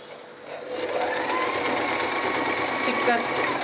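A sewing machine runs steadily while stitching fabric for a kids' frock with a Peter Pan neck, its motor hum continuous and fairly close, briefly rising near the end.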